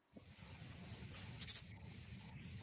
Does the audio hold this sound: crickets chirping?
yes